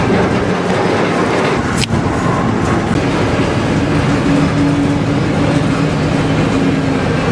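A freight train rolls along the BNSF Transcon main line close by, with a loud, continuous roar and clickety-clack of wheels and one sharp clank near the start.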